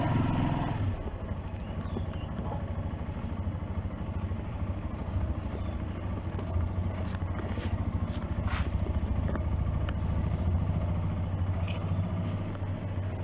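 A motorcycle engine runs steadily nearby as the clutch is engaged to pull away, a continuous low rumble with slight rises in revs and faint mechanical ticks.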